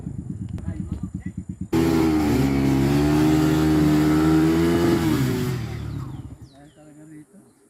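A motorcycle engine revs hard and holds a steady loud drone while climbing a muddy brown clay trail, preceded by choppy idling pulses and fading out afterward.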